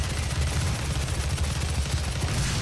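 Dense, loud gunfire and combat noise from the first-person shooter Doom, a continuous roar of shots heard close with no voices.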